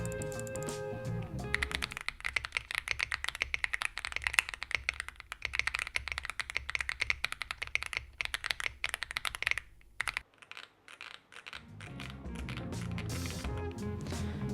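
Mechanical keyboard keys clack rapidly and continuously in a busy typing rhythm, with a brief pause near the end before typing resumes, on a Monka 6075 Pro with its internal tape removed.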